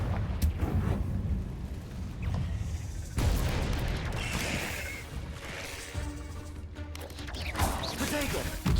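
A Confringo fire spell in Hogwarts Legacy blasts off as a series of booming, crashing explosions with rumbling bursts through the stretch, while a player talks over the game sounds.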